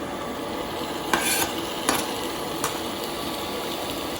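Sliced chicken breast fries in a tablespoon of oil in a pan, giving a steady close sizzle with a few sharp stirring scrapes and no talking.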